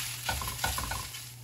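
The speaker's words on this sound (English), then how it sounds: "So you can see that's brown and nice and sizzling away." Close, crackling sizzle of meat browning in olive oil, with a few scraping stirs breaking the steady hiss.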